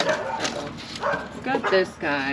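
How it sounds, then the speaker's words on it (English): Dogs bark and yip in short bursts while a person speaks over them nearby. "excuse the dogs barking."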